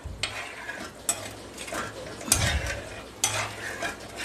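Tirunelveli fish curry in a pot sizzles and bubbles at close range, with intermittent scraping bursts like stirring against the pot, all fairly quiet and without speech.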